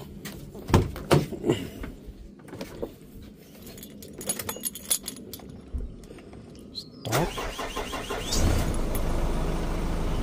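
A Nissan Navara D40 diesel engine with a turbo, suffering black smoke and low power, cranks and catches after some faint clicks and handling noises, then settles into a steady, rough idle close by.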